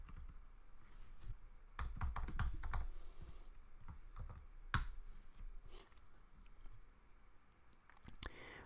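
Keystrokes on a computer keyboard as a password is typed, a quick irregular run of close, crisp clicks with a brief pause partway through, over a quiet room hum.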